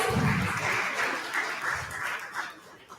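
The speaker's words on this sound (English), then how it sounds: "A round of applause for him" Audience applause for a speaker being welcomed onto the stage, a steady wash of many hands clapping for about three seconds, full at first and thinning slightly toward the end, with no talk over it.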